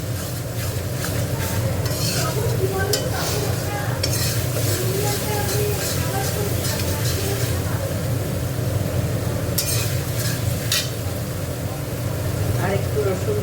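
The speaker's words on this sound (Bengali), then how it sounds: "রসুনটা একটু ভেজে নেবো।" Garlic paste fries in a pan at an outdoor picnic cookout for a chicken dish, giving a dense, constant sizzle with continuous stirring and occasional utensil clinks, while a voice talks faintly in the background.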